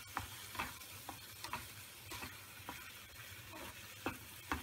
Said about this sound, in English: Egg should sizzle in pan and immediately begin to scramble.